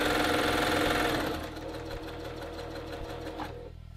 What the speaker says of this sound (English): It provides a track for you to follow while you're sewing your dart.